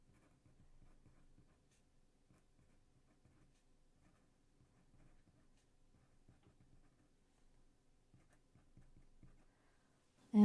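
A Sailor Pro Gear Slim fountain pen with a fine 14K nib scratches faintly and softly across paper in quiet, irregular strokes, ending with a sudden louder knock.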